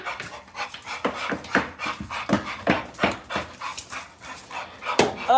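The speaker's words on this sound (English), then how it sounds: "Oh, this damn dog." A dog pants rapidly and steadily up close, rhythmic breathy huffs running throughout with a faint whine near the end.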